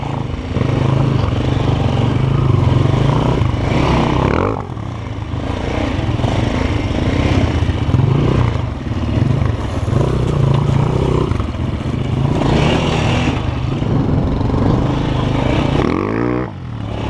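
Two Chinese enduro motorcycles, a Forte CBA 250 and a Hornet Dakar Pro, labour up a steep hill climb, engines droning loud and steady with surging revs, clattering and scraping throughout.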